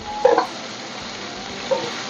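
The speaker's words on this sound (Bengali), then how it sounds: "গোটা জিরেটা দিয়ে দেবো ফোড়নের জন্য।" Whole cumin seeds hit hot oil left from frying prawns, giving two brief bursts of crackle over a faint steady sizzle, close and otherwise quiet.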